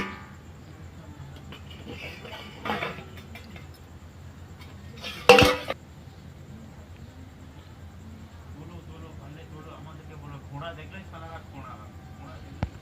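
A pot lid is lifted to check a steamed eggless ripe mango cake, giving one sharp metallic clank over a low kitchen background with a couple of softer knocks around it.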